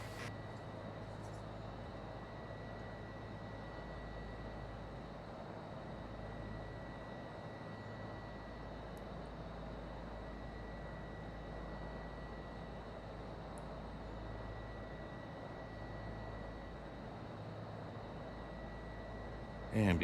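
Steady engine roar of an airplane taking off in Microsoft Flight Simulator 2024, holding a constant loud drone for the whole stretch, with a small burst near the end.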